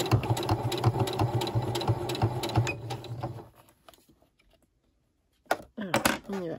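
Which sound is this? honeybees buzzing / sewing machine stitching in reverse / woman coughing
sewing machine stitching in reverse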